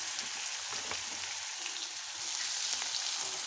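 Sliced bitter gourd and onion pieces with curry leaves frying in a pan over low heat, a steady close crackling sizzle throughout, with no speech.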